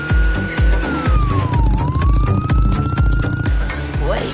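Cartoon police car siren wailing in a sweeping rise and fall over a pounding rhythmic music beat, loud and close, lasting the whole stretch.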